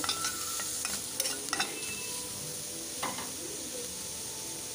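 Chutney ingredients lightly fried in a pan until the raw smell goes, a soft continuous sizzle with a few faint scrapes and taps of a spoon, close and without talk.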